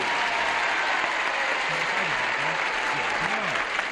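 A television studio audience breaks into steady, dense applause on a game show, the clapping sustained and fairly loud, with a voice faintly audible underneath.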